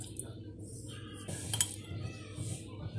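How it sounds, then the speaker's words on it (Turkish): Oil mixed in a bowl with a teaspoon each of thyme and red pepper flakes plus black pepper to make a sauce for oven-baked bonito. A spoon clinks and scrapes against the bowl in light, irregular taps, with one brighter clink near the middle. "Ve sosumuzu iyice karıştırıyoruz."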